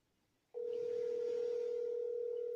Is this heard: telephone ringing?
yes